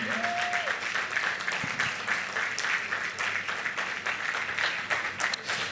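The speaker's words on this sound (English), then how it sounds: "Please let's just quickly give a resounding round of applause to Mr. Dari." Audience applause for a co-founder at an edtech event, a steady sustained clapping that fills the room for several seconds, with a brief tonal sound near the start.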